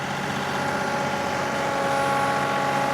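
A John Deere 2038R compact tractor runs steadily at close range while moving dirt, its engine and drivetrain giving a continuous loud whine over a droning hum, with no talking.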